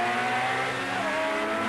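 Touring race cars at a wet ETCC race start at Zolder in 1988, a dense, loud roar of several engines at high revs with whining tones rising and falling as the pack accelerates.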